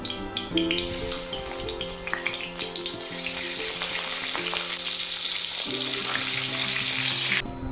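Fish heads fry in hot oil for a Bengali muri ghonto, a dense close sizzle with a few faint clinks of a utensil, growing steadier and louder toward the end, with no talking.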